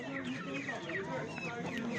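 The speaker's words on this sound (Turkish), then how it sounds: "Evet burada da pazarda iki tane de yan yana köy horozumuz var." Village roosters and chickens at an open-air poultry market in Gördes, Turkey cluck and call continuously at close range, with people talking over the birds.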